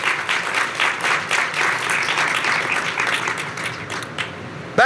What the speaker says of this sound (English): Let's please give them a round of applause one more time for their hard work.